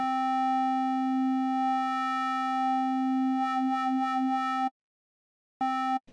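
Synth ambient pad with an LFO sweeping its filter: a sustained, pure-sounding tone that wavers slowly toward the end, then cuts out and briefly returns before stopping abruptly.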